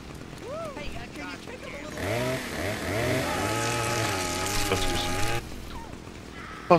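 A chainsaw revs in Saints Row 2, a loud buzzing engine that idles, then roars steadily for several seconds with pitch sweeps before cutting out, with a voice speaking briefly before and after.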